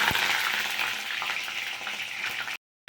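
Pointed gourd frying in hot oil in a wok, a dense continuous sizzle with a few stirring knocks, close and loud, cutting off abruptly near the end.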